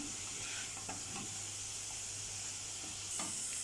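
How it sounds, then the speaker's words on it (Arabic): Meat and onion sautéed together in a pan, a steady close sizzle with occasional scraping stirs and light clatter throughout, no talking. "اقلب كده فيهم واشوحهم كويس مع بعض لغايه ما معايا لون اللحمه يغير شويه ولون البصله"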